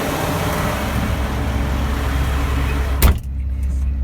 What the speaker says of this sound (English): Those 16 liters of displacement make quite a lot of noise.